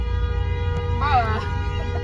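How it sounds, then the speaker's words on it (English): A car horn honks in a road tunnel near the Great Smoky Mountains, sounding as one brief, reverberant tonal blast over a steady low rumble of traffic, with voices faintly present. "Who is honking?"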